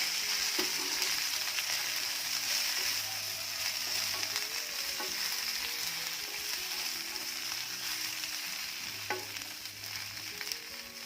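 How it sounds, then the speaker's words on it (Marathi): Okra sizzling in hot oil in a pan for a Maharashtrian bhendi bhaji, a steady, close frying hiss that runs throughout with occasional light clinks and stirring sounds. "तेल चांगलं गरम झालं की यामध्ये जी भेंडी आहे ती घालायची"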